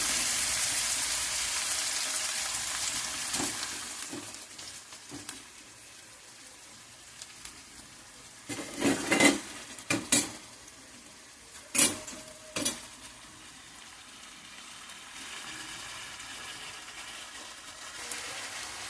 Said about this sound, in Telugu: నేను ఆయిల్ వేసాను కదా, అందులోని మీరు ఏం చేస్తారంటే ఈ ఆనియన్స్, పచ్చిమిర్చి, టమాటా ఈ 3 వేసేసుకోండి